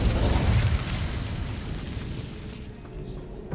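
The Incendio fire spell in Hogwarts Legacy bursts out as a loud, booming whoosh of flame that fades into a lower rumble over a few seconds.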